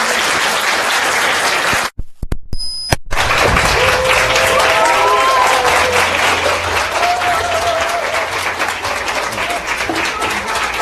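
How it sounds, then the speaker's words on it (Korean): Lecture audience breaks into sustained, loud applause welcoming a speaker at a Korean public lecture, with a brief silent gap near the start before steady clapping fills the room. "뜨거운 박수로 모시겠습니다."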